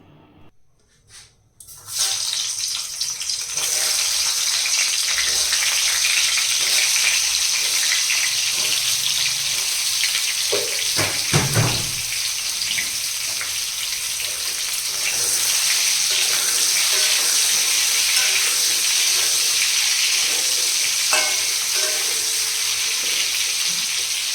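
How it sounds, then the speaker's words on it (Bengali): Pieces of pointed gourd (potol) fry in hot oil, giving a steady, loud, hissing sizzle that starts after a brief quiet moment and carries on with no one speaking, apart from a short clatter near the middle. "চলো পটলগুলোকে ভেজে নিই"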